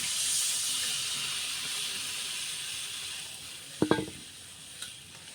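Water goes into a hot pan of egg, potato and bori curry, giving a steady sizzling hiss with a couple of sharp clatters of a spoon or pan partway through.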